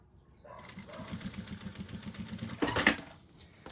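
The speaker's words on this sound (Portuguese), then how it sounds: "retrocesso no início e no fim, faço uma costurinha" A sewing machine runs in one continuous burst, stitching fabric for an Easter zippered pouch, with a brief louder clatter near the end and faint talk.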